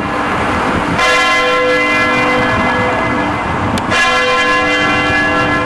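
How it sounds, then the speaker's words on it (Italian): Church bells in the village of Salzano ring loud and full, strokes overlapping into a dense, continuous peal with fresh strikes about a second and nearly four seconds in, and no voices. "le campane della chiesa che lo svegliano ogni giorno alle 7 di mattina"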